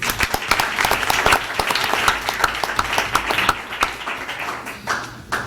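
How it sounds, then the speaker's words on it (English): A room at a school board meeting breaks into a round of applause for a Washington math teacher and coach, steady clapping from a modest crowd that thins toward the end. "let's give him a round of applause"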